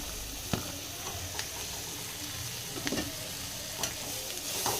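Three medium tomatoes frying in a pan give a steady, moderate sizzle, with occasional soft knocks of a spoon stirring against the pan.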